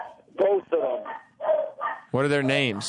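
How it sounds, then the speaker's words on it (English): Dog barking close by in a radio studio, a few sharp barks and yips mixed in with people talking over it. "it's the dog just running"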